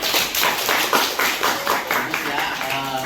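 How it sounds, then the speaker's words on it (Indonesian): A short burst of hand clapping from a small group in a classroom, brisk and fairly close, the claps running together in a quick rhythm for about three seconds before fading. "Oke, tepuk tangan dulu."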